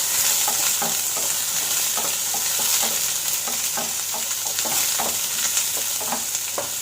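Onions sauté in a pan with a steady bright sizzle, punctuated by regular scraping and stirring taps throughout.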